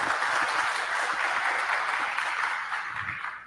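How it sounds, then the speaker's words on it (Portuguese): Applause for a professor at an academic conference: a dense, steady wash of clapping from the audience, holding at an even level before thinning slightly toward the end. "uma salva de palmas, professor."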